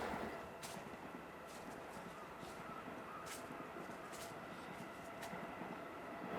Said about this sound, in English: Oh wow, I can hear a train in the distance.